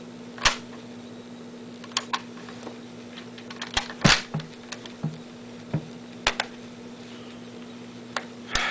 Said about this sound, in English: and you're able to work the bolt